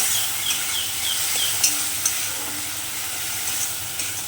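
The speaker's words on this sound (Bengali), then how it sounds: "তারপর আমি সামান্য পরিমাণ জল দিলাম মশলাটাকে ভালোভাবে কষানোর জন্য ভালোভাবে নেড়ে নিতে হবে" Spice paste with chili powder and a splash of water fries in a pan for paneer bhujia, giving a steady close hiss with scattered soft scrapes of a spoon stirring through it.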